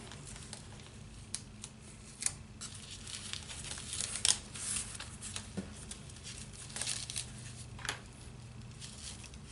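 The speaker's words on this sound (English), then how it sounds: "I'm going to go ahead and take some painter's tape" Painter's tape is pulled and torn close by at a craft table, giving a few short rips and crinkles spread out over a quiet background.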